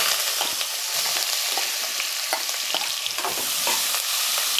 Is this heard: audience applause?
no